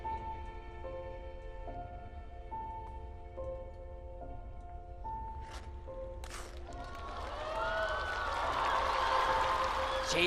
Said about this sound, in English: Another quad to the applause of his coach, Stéphane Lambiel.